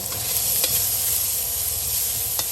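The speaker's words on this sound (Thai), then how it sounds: "เราจะเจียวมันหมูก่อนค่ะจเจาน้ำมันหมูมาผัดนะคะ" Steady, busy sizzling of pork fat rendering in a pan, with a couple of faint clinks of a utensil stirring; no voices.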